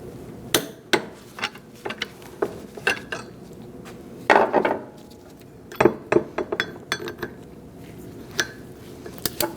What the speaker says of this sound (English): So now we're going to torque our bolts to 89 foot-pounds.